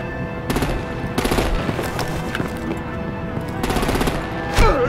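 Gunfire rings out in the Batman: The Enemy Within video game, with several loud bursts of rapid automatic shots and some scattered single cracks in between, all close and with no voices.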